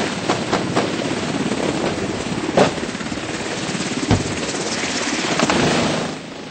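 A military helicopter flying over Afghanistan in a war zone produces a steady, loud rotor and engine roar that fills the whole stretch without pause, with a few brief sharper thumps along the way.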